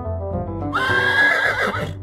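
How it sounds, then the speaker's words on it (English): A horse gives a loud, close neigh, rising into a long whinny over soft background music. "A horse neighs."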